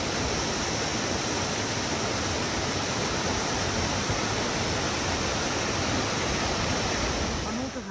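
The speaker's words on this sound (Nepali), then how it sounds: "कस्तो मजाको खोला छ यहाँ" A mountain river near Landruk on the Mardi Himal trek rushes in a loud, unbroken roar of churning water that stays constant and close for the whole stretch, fading slightly only at the very end.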